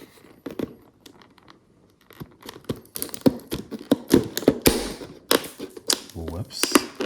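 Scissors snip and tear through plastic phone packaging for a Virgin Mobile K7 Rave, K9 or K10 Royale, a quiet start building into a run of sharp crunchy cuts and crinkles close by, with a voice talking over parts of it.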